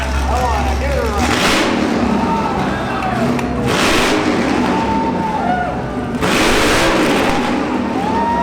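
A Dodge 426 Hemi Hellephant 1000 HP crate engine at a SEMA show unveiling, a low idle rumble breaking into three loud, roaring revs spaced a few seconds apart, over a noisy crowd with voices talking.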